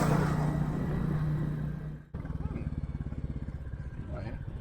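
A Royal Enfield Classic 350 motorcycle thumps along at low speed, its steady single-cylinder exhaust pulses close and moderately loud after a rushing stretch, with a voice briefly over it.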